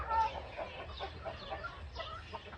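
Chickens clucking close by in a farmyard: a run of soft, irregular clucks and murmurs at moderate volume with a low rumble underneath.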